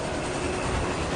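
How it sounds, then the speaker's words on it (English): A fast train roars past in a dense, steady rumble, with a faint rhythmic clatter of wheels over track through the brief burst. "Imagine a train racing past, faster than any train you've ever seen."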